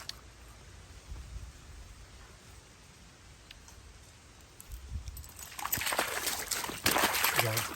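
Water splashes and sloshes as someone walking a dog is pulled into a creek in the Iloilo area of the Philippines, quiet at first and then louder, close splashing toward the end.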